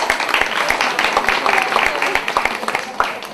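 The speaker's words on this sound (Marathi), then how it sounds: "जोरदार टाळ्या होत्यात." Loud applause from a crowd at a women's Nagpanchami event in Satara, sharp claps packed closely near the microphone, with a voice speaking over them.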